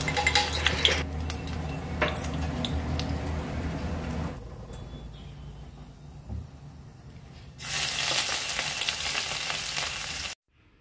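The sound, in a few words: spices frying in mustard oil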